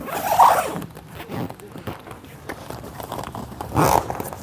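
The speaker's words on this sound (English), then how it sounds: "it takes a little bit to get the zipper broken in" A zipper on a CarCapsule inflatable car cover is pulled in two short, loud rasping strokes with a quieter stretch between them, close up, while a person talks briefly.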